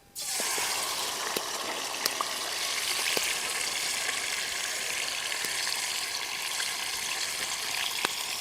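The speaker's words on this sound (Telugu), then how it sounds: "నూనె కొద్దిగా వేడైనాక ముందుగా మ్యారినేట్ చేసి పెట్టుకున్న మటన్ ఉంది కదా ఇది వేసుకోవాలి" Marinated mutton hits hot oil in a kadai and sizzles steadily and loudly from start to finish, a dense continuous frying hiss with faint scattered pops and no voices.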